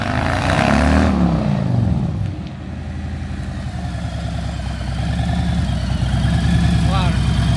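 A Harley-Davidson motorcycle idles with a modified Tab exhaust, a steady low rumble with a brief blip partway through, while people talk close by.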